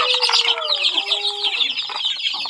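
Backyard chickens cluck and squawk close by as they are driven into their coop, a dense, loud, continuous chorus of overlapping clucks and short calls.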